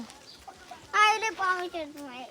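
A hen clucks briefly in a village yard during rain, a short sequence of harsh calls standing out for about a second over a quiet background, with a voice nearby.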